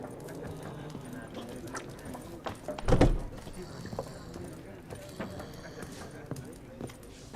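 Roach the horse from The Witcher 3 trotting in-game, steady clip-clop hoofbeats under a busy game mix with a louder thud around the middle and speech over it.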